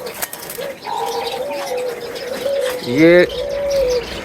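A ring-necked dove, a cross of frosty and spotted varieties, coos in a few soft, close calls along with a brief flutter of wings, while someone speaks briefly nearby.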